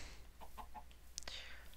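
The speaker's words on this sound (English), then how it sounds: "Okay, some chickens." Chickens cluck in the video game Minecraft: a few short, soft clucks in quick succession, followed by a brief sharp squawk over a low steady background hum.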